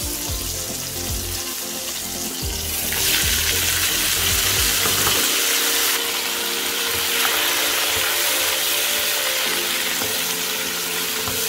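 Vegetables for a prawn chow mein stir-fry in a hot pan, giving a loud, close, continuous sizzle that swells as they go in, with occasional scraping from stirring.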